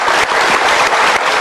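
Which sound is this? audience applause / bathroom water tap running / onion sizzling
audience applause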